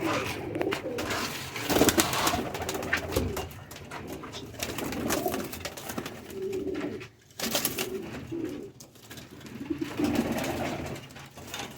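Several pigeons coo softly and continuously nearby, their low burbling calls overlapping against rustling and faint background noise.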